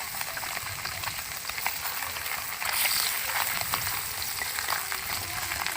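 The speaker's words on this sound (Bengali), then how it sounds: "আমি ভেজে নেবো মাছগুলো" Small puti fish fry in hot oil with a steady, close sizzle and crackle that swells slightly partway through. No one speaks.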